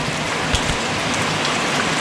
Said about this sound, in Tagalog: tumigil na yung ulan